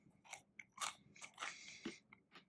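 Skin-on hazelnuts from a Lithuanian ration pack crack and crunch between the teeth in a quick run of close, sharp bites and chews, quiet and with no voices.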